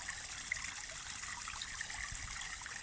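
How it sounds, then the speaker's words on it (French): A small water cascade trickles and splashes steadily, a soft continuous burble heard from a short distance with no other sounds over it. "Et l'eau que vous entendez de cette petite cascade, laissez-la couler dans votre ventre."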